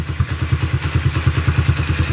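A Honda CRF50F small motorcycle engine idles close by with a steady, slightly loping putter, its rapid regular pulses holding an even rhythm throughout.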